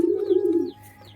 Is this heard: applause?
no